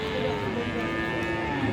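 A cross Friesian cow at a cattle market gives one long, loud, close moo that fills the whole moment, with faint crowd murmur behind it.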